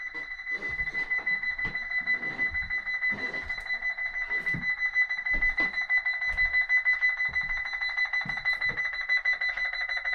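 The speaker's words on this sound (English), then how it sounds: "It's an alarm." A steady electronic house alarm beeps continuously in a rapid pulsing pattern, loud and persistent, with brief voices and bumps underneath, in a house in Detroit.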